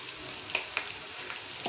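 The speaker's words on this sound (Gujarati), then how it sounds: "અને થોડીક વાર એને સાતરીશું." Ginger, chili and garlic paste cook with onion and salt in a hot pan, giving a soft continuous sizzle with a few light stirring scrapes and clicks, close and fairly quiet.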